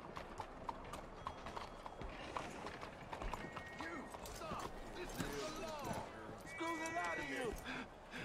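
Steady clip-clop of horse hooves at a walking rhythm in the video game Red Dead Redemption 2, with a person talking over it and a brief tonal sound partway through.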